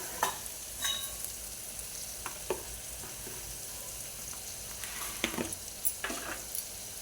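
Onions, lightly salted, fry in a pan for a tomato egg curry with a constant faint sizzle beneath scattered scraping clicks of a stirring spoon, close by and without talk.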